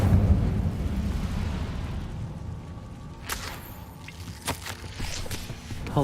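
A fire spell cast in the video game Hogwarts Legacy erupts as a low rumbling burst that fades into a steady roar, followed by a few sharp crackling pops and light footsteps over a continuous game ambience.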